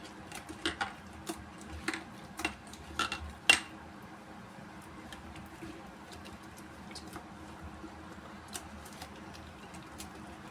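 Clinks and scrapes of a spoon stirring idli batter in a metal pot, a quick series of light metallic taps early on, then fainter sparse clicks in a quiet kitchen.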